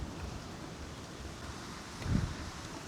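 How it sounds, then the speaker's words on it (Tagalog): Wind blows steadily outdoors at a house under construction, a broad low rushing roar with a brief stronger gust near the end; no voices. "Grabe lakas po ng hangin."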